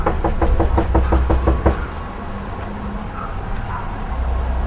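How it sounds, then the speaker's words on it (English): Rapid knocks on a house door, about eight quick evenly spaced raps close by, then they stop and low background hum remains with faint street noise. "We can knock, we'll try."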